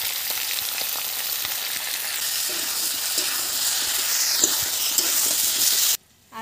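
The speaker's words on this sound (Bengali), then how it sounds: "আলু ভাজা হয়ে গেছে" Potatoes fry in hot oil seasoned with salt and turmeric, a loud continuous sizzle with light stirring scrapes that cuts off abruptly near the end.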